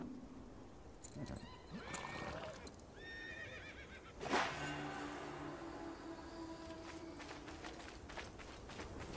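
A horse in Prince of Persia: The Lost Crown neighs and whinnies, followed by a loud snort and hooves clopping in a steady rhythm, with background game ambience throughout.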